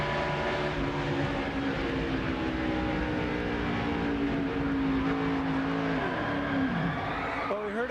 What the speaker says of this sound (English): We heard him get back into the throttle, and then the back end swapped.